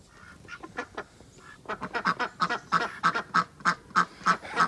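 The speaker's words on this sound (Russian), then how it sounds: "Отсюда крякает, это оттуда крякает. Ой, утки, утки." Ducks quack repeatedly outdoors near a country house in winter, a run of loud, evenly spaced nasal calls that grows busier and steadier toward the end.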